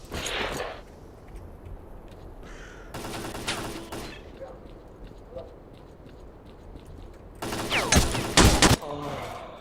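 Rapid bursts of automatic gunfire in the video game STALKER: Call of Pripyat, coming in several sharp loud volleys separated by quieter stretches, with a voice talking faintly in between.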